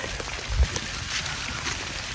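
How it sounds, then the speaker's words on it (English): Heavy rain on the Appalachian Trail patters densely and steadily on a surface nearby, a constant loud hiss with scattered drops standing out. "Back to pouring down rain on me."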